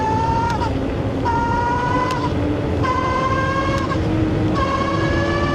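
A Tuttio ICT e-bike motor under throttle gives a high electric whine that rises in repeated surges, each climbing and then cutting off, over steady road noise.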